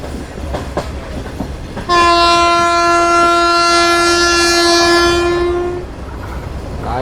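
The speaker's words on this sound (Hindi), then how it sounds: "ये ज़रूर कोई लाइट इंजन होगा जो कि निकल रहा है लांडी जंक्शन पे" A light locomotive engine passing Landi Junction in Karachi sounds its horn in one long, loud, steady multi-tone blast of about four seconds over low rail rumble, then the blast fades.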